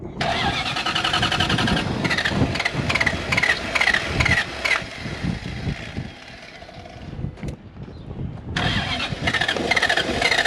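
A Toyota FJ40 Land Cruiser barn find fitted with a 1UZ engine cranks and fires, running loud and close with a steady rough roar, dipping briefly before revving up again.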